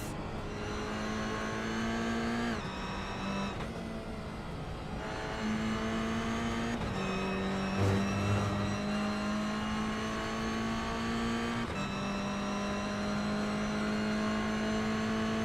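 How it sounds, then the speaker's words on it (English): Toyota GR86 race cars in the iRacing game at Sebring drone continuously, their engines climbing through the revs and dropping with each gear change, one car near and loud with others faintly underneath. "Into turn 1, here's Brenner Delmar chasing Brenton Walco"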